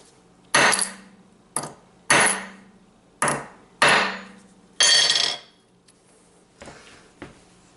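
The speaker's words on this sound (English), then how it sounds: "if you ever want to smash your OnlyKey with a hammer" A hammer strikes an OnlyKey security key about six times in an uneven rhythm, each blow a sharp, close, loud crack, followed by a couple of fainter taps.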